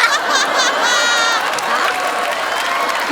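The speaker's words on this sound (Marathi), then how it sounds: "नुसतं बालवाडी म्हटलं तरी टाळ्या वाजल्या रे" Live studio audience at a Marathi comedy sketch show breaking into applause mixed with laughter, a loud, sustained crowd wash lasting a few seconds, with a voice briefly audible at the start.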